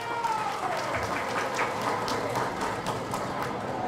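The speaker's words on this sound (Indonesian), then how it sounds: "Tepuk tangan dulu." Applause for the regent at a regional ceremony in Gowa regency, Indonesia: a steady wash of clapping from a crowd, sustained and even for a few seconds.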